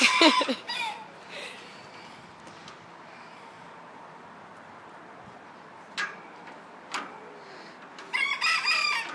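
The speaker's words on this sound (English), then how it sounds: "And a rooster crowing over there." A distant rooster crows a few times over a quiet outdoor background at a petting zoo, with brief sharper calls near the end.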